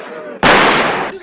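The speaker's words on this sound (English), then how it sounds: "You're shooting me in the leg" A single loud, sharp gunshot blast in a comedy sketch set in a western saloon, bursting abruptly after a brief stretch of voices and then ringing out for most of a second.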